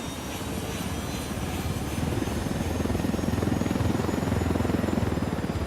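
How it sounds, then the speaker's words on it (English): Supply helicopter in the video game Ghost Recon Wildlands, a steady loud rotor drone with rapid chopping pulses that holds and swells slightly throughout, with no voices. "Stealing supply choppers to help cartel crushing rebels."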